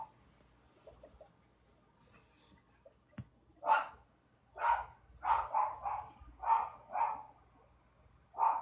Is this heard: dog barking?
yes